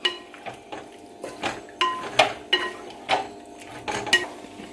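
A spoon stirs salted lemon pieces and their juice for lemon pickle, making a series of moist clinks and scrapes against the vessel, about one every half second, close and moderately loud with no talking.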